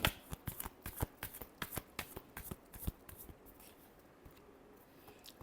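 Tarot cards are shuffled by hand in quick crisp riffling bursts, loud and close at first, then thinning to softer scattered sliding sounds toward the end.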